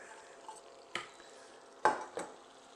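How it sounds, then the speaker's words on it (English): Butter and flour being stirred together into a roux, a quiet faint sizzle with a few distinct scraping strokes of a utensil against the pan. "Just want the butter all mixed together with the flour"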